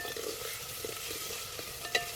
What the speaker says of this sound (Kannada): ಶುಂಠಿ ಮತ್ತು ಬೆಳ್ಳುಳ್ಳಿ ಪೇಸ್ಟನ್ನು ಹಾಕೋಣ ಇವು ಹಸಿ ಮಸಾಲ ಏನಿರ್ತಾವಲ್ಲ ಇದು ಚೆನ್ನಾಗಿ ಫಸ್ಟ್ ಹುರ್ಕೊಳ್ಬೇಕು